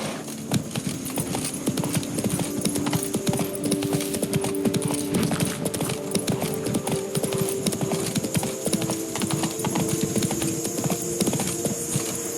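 Roach the horse gallops in The Witcher 3: Wild Hunt, with rapid, steady clip-clop hoofbeats running continuously and close over a low hum.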